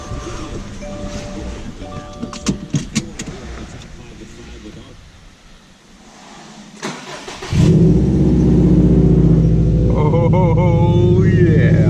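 A 2019 Subaru STI fitted with a Remark axle-back exhaust drives along, its exhaust drone swelling loud and steady after a quieter start with speech, road noise and a brief window sound.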